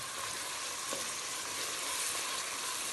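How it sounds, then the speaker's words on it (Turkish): Red dried pepper, fresh red and green peppers and onion frying in plenty of oil, a steady soft sizzle close by with a faint stir or two. "kırmızı, kuru biber, kırmızı, yaş biber, yeşil biber, soğan kavurmaya başladım"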